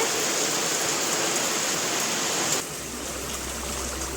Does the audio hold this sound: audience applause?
no